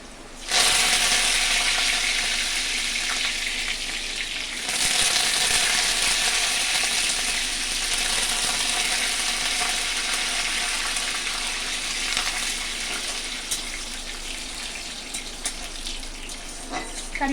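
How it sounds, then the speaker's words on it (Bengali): Damp curry leaves hit hot oil with green chilli in the tempering, setting off an abrupt, loud, crackling sizzle that surges again a few seconds later and keeps hissing steadily close by. "আমার জল একটু থেকে গিয়েছিল বলে তেল ছিট করবে।"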